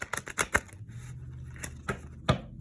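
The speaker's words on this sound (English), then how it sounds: "Spirit just told me to shuffle these cards." Tarot deck being shuffled by hand, a quick run of crisp card riffles and taps followed by a few separate slaps of cards, close and dry, with no talking.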